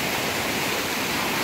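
A swollen river rushes past, a loud, steady broadband roar of churning water close at hand, with no voices.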